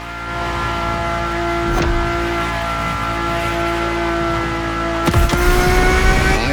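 A Ferrari supercar engine in The Crew Motorfest heard from the cockpit holds a steady tonal hum, then rises sharply with a shift and louder revving near the end.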